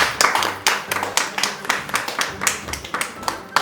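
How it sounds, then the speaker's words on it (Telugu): An audience at a drawing competition prize announcement claps for a cash prize winner, a loud close burst of many hands in a steady, slightly uneven rhythm. "అందరూ క్లాప్స్ కొట్టండి."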